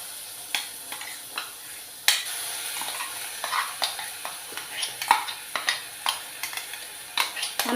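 Spice paste for a raw banana tamarind curry sizzles and fries in a pan while a spoon stirs and scrapes in short, irregular strokes, close and moderately loud, with no talking.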